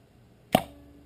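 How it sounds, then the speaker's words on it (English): A single sharp metallic clack as a Benelli Nova shotgun's barrel slides back to the breech rings out in a quiet room, followed by a brief fading ring. "That is the sound of the barrel moving back towards the breech."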